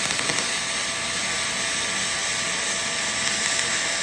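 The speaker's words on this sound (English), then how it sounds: "you can hear just how the arc runs, that it's so much smoother" Aluminum MIG welding with a spool gun feeding 0.035 inch 4043 wire on a quarter-inch aluminum coupon, a smooth, steady, close buzzing hiss running without break throughout, no talking.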